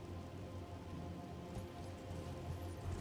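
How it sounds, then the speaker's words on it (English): Rain falls in the Elden Ring video game, a steady, even patter of drops on surfaces that stays soft and continuous throughout with no talk. "Even if it is raining."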